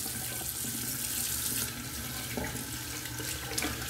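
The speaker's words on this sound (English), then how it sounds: "Go ahead and do my cold water rinse." A sink tap runs steadily for a cold-water rinse after a straight-razor shave, a close, continuous hiss and splash of water at even level with small splashing shifts and no talk.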